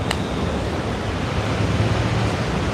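Cold wind gusts and rain roar outdoors in a steady, close, broadband wash with heavy buffeting on the microphone, alone without talk.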